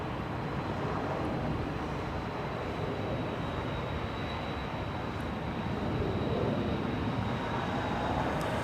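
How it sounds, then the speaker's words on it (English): Level Airbus A330-200 airliner arriving at LAX, a steady broadband jet roar held loud and close throughout with a thin high whine above it, no voices. "Next one to come in is Level, flying in from Barcelona. 12 hours, 10 minutes of flight time. An Airbus A330"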